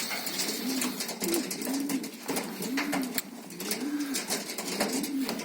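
Pigeons coo in a soft, repeating rhythm close by, the low rolling calls recurring every second or so over a background of rustling and shuffling.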